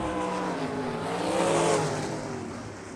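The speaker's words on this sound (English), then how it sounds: "It looks like our leader may have put the horsepower down on that one down the back stretch." Non-wing sprint race cars at a dirt oval accelerating hard down the back stretch, a loud roaring engine drone that swells and peaks mid-way, then fades slightly as they pull away.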